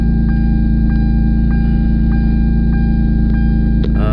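A Hyundai Tiburon V6 engine idling high after an ECU reset, a steady low hum throughout, even and unbroken with a faint regular pulse, close by.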